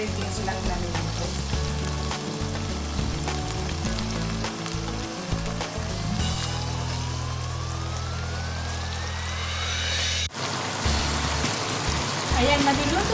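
Chicken pieces for butter chicken fry in a pan with a dense, continuous sizzle and crackle, and a rising whine runs through the middle before a brief cut.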